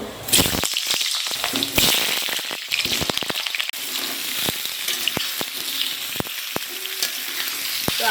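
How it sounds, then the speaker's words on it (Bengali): Carrots fry in a pan with a constant near sizzle, interrupted by sharp clacks and scrapes as they are stirred. No one speaks. "এদিকে গাজরগুলো ভাজছি সব সবজিগুলো ভেজে নেব"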